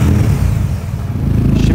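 Modified car engine with a Süreyya exhaust, still in its break-in period, revving in a steady low rumble that holds loud throughout with a slight dip midway, close by.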